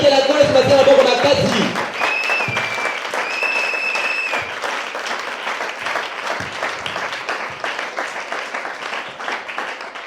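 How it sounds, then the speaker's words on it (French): A church congregation applauds loudly to acclaim the Lord, with dense sustained clapping from the crowd throughout and singing or voices rising over it at the start. "Acclamez encore très fort le Seigneur."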